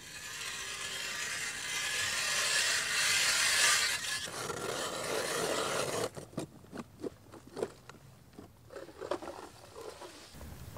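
Hand ice auger cutting through roughly 30 cm of lake ice in Sweden, a steady scraping, grinding rasp that runs several seconds, then breaks into irregular crunching bursts and scrapes as the drilling slows near the surface.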